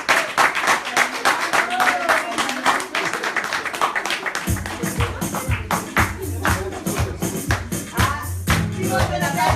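An audience applauding at a children's show, dense clapping that continues throughout, joined partway by rhythmic low thumping and a voice over it.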